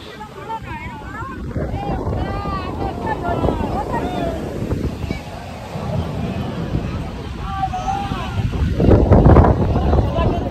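Large waves at Puri beach roar and crash continuously, with strong wind buffeting the microphone. People talk over the surf throughout, and a louder surge of water builds near the end.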